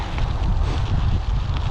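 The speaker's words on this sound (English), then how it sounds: "There's a little bit of wind, so I don't know how well you can hear me right now, but I'll try to speak over the noise." Wind gusts across a bluff-top hiking trail in a Spokane park on a sunny day, a steady low rumble of buffeting air against the microphone with no voices heard.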